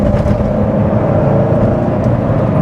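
A steady, deep engine drone fills the clip, a constant low rumble from the exhaust of a manual supercharged Chevrolet Corvette C7 Z06 heard up close with no pauses.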